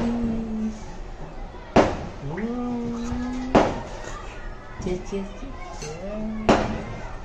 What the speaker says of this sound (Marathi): फटाके पण फुटत आहेत